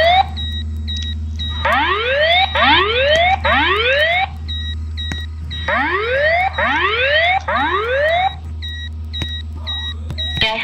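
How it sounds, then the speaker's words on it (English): A fire alarm in a Roblox building's security system sounds loud and close with repeating rising whoops and rapid electronic beeps in a fast, regular pattern over a low steady hum, with no other sound. "we're gonna get started with the fire alarm portion"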